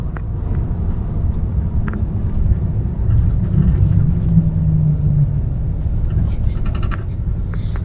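A car drives and turns on a road near the plain of Arafat outside Makkah, heard as a steady, close, low engine and road rumble that continues throughout.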